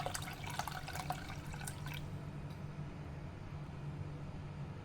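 Water poured into a saucepan holding sugar and powdered milk, a splashy trickling stream for the first two seconds, then fading into a quieter steady wash beneath a low hum.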